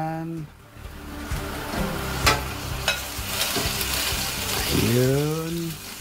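Pork dropped into a pan with garlic already cooking, setting off a rising sizzle and fry with stirring clatter, close and moderately loud, with no talk over it.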